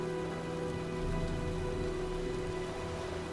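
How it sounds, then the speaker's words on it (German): Steady, dense storm rainfall in the video game Heavy Rain, a constant hiss of drops on surfaces filling the whole stretch with no talk. "sieht nach einem Sturm aus"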